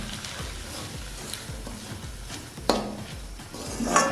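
Semolina (suji) being dry-fried and stirred in a pan with oil, giving a steady scraping, rhythmic stirring with soft sizzle and occasional clinks of the spoon against the pan, close and moderately loud.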